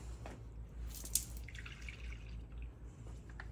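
Engine coolant dripping from a Ford Mustang EcoBoost S550 during head gasket work, faint, sparse drips over a low, steady background hum, quiet and close.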